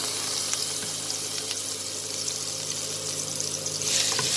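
Chopped garlic sautés in two tablespoons of hot oil for a chicken and baby corn stir fry, a constant moderate sizzle that swells briefly near the end.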